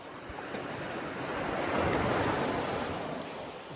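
Sea waves washing onto a beach in Kefalonia, Greece, a steady broadband roar that slowly swells and eases, mixed with some wind noise on the microphone.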